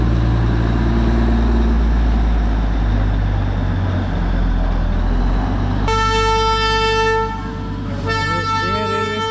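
A Darjeeling Himalayan Railway toy train sounding its horn as it departs the station, a loud sustained multi-tone blast cutting in over heavy rumbling engine and rail noise, then a second shorter toot with wavering pitch.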